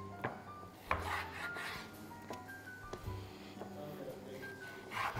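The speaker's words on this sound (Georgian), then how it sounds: "ესეთი არაჩვეულებრივი ნაჭერი მაქვს, ესე გავჭრი." A knife slicing through a piece of steak in a kitchen, with soft repeated rasping strokes and a few light knocks on a board, fairly close and moderate in level, while a person talks over it.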